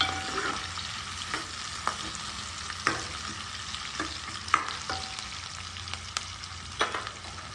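Bay leaf and ginger-garlic paste fry steadily in a pan, a continuous sizzle broken by sharp clicks and scrapes of a spoon stirring at irregular intervals.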